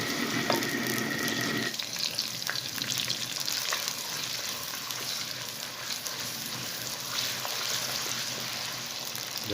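Chopped onion frying in hot ghee for chicken karahi gives a continuous loud sizzle and crackle, close to the pan and steady throughout, with faint clinks of stirring.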